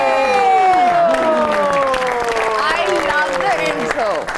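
A live television show audience in Pakistan claps and cheers for a guest actress's introduction, loud applause mixed with a host's voice and musical tones over the crowd noise.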